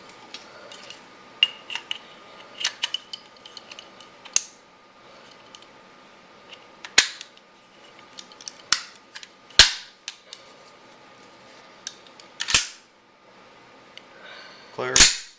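Test firing of a Karri's Guns KM10.5 inch pistol kit, heard as several sharp, isolated cracks spaced irregularly over background handling noise, with no talk.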